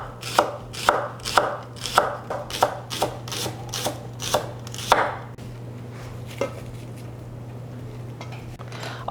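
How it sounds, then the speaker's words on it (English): A knife chops two shallots on a board in a quick, even run of about a dozen sharp thuds. The strokes stop partway through, leaving a faint steady hum with a couple of isolated taps. "I have 2 shallots. I'm going to chop these up."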